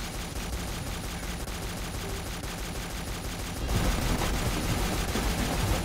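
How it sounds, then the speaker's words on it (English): Rapid machine-gun fire in a shooter game from the new warship weapon on the AT Tsiolkovsky, a steady unbroken burst that swells louder midway and keeps up its fast rate throughout. "the fire rate is very, very close to the new machine gun on the AT Tsiolkovsky"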